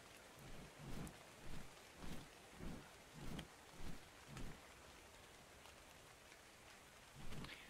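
Steady rain hiss in the video game ARK: Survival Evolved, quiet and continuous, with a series of soft low rumbling thumps recurring about every half second.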